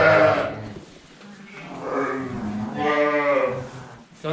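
Texel ewes bleating in a sheep barn, several loud, drawn-out calls one after another, close by and overlapping, with quieter barn noise between them.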